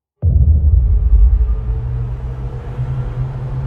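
An Audi e-tron GT electric car's designed drive sound starts abruptly and settles into a loud, steady, deep droning hum with faint tonal layers above it, heard alone.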